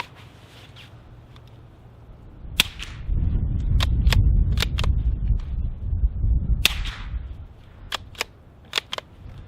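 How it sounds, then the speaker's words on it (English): A Savage B22 rifle fitted with a Dead Air Mask suppressor fires standard velocity rounds outdoors. About eight sharp, loud supersonic cracks ring out at uneven intervals over a heavy rumble of wind. "we are definitely getting supersonic crack out of this"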